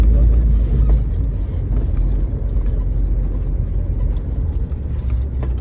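A car pulling away in second gear on a first-time learner's drive, its engine a steady low drone with road rumble throughout, close and continuous, with an instructor speaking over it.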